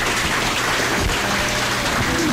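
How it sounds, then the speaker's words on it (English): Audience applause at a candidates forum for district commission, school board and mayoral races: a steady, dense wash of clapping from a crowd that holds at an even level throughout. "Ladies and gentlemen, a round of applause,"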